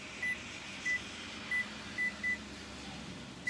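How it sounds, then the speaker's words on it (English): A kitchen oven timer is set for twenty minutes, giving five short, high electronic beeps at uneven intervals over a quiet room hum. "Set our timer for 20 minutes."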